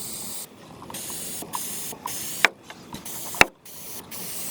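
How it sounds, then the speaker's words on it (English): Spray paint hisses from an aerosol can onto a desk during a restoration base coat, in several steady bursts separated by short pauses, with a couple of sharp clicks from the nozzle; no talking. "You want to make sure to not spray so close."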